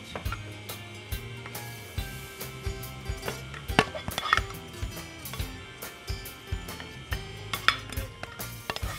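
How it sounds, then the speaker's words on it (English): Reheated caldereta scraped and spooned into a cooking pot: quiet clinks of a metal utensil against cookware, repeated soft taps and scrapes in an irregular rhythm, close by with no talking. "I'm going to put our heated caldereta in our pot"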